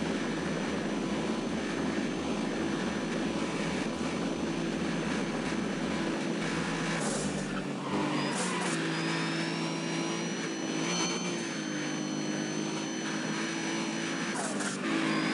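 A race car engine in Need for Speed World (Soapbox Race World) drones steadily, its pitch wavering and climbing through gear changes with a low rumbling pulse early on, loud and continuous with no talk over it.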